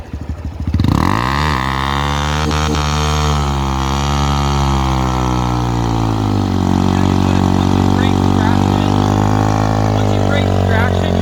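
A Honda Grom motorcycle engine starts up close and loud, then revs hard as the clutch is dumped, pitch rising and wavering before settling into a sustained high drone with some clatter.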